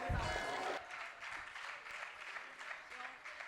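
Audience applause at a youth forum closing ceremony, fairly faint steady clapping that follows a brief voice at the start and carries on evenly to the end.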